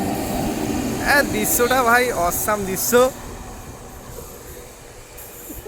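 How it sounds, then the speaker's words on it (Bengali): A train rolls along a village railway track near a bridge with a continuous rumble and squealing wheels, while someone talks over it for the first few seconds. "এ দেখুন ট্রেন যাচ্ছে"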